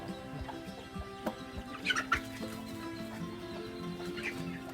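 Chickens cluck and squawk in a busy outdoor scene, with scattered short calls over steady background noise and a few sharper sounds.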